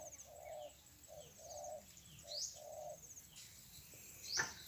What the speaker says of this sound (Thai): ได้ยินแต่เสียงนกต่อคูนะครับตอนนี้